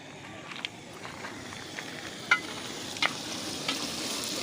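Tomatoes and chillies frying in a pan outdoors for an iftar meal, giving a steady low sizzle with a few sharp clinks of stirring, fairly quiet and without voices.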